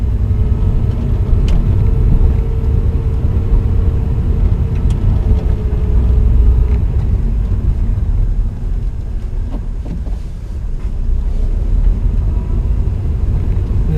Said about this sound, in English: we're just learning how to slow it down, let it shake, Then get back on the gas and bring it out of the stall.